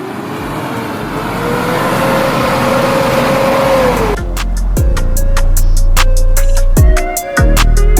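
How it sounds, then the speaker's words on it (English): Lifted Toyota LandCruiser 60 series on a test drive, the engine droning and rising steadily, then shifting through rhythmic revs and gear changes, loud and close. "we're essentially going to take it for a little test drive"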